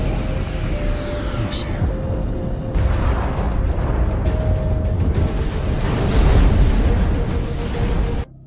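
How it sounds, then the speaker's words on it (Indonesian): A deep, roaring explosion from the film The Wandering Earth rumbles on with heavy low booms and a sustained blast of noise, then cuts off abruptly at the end. "Berkat pengorbanan ayah Liu Qi, ledakan hebat pun akhirnya terjadi."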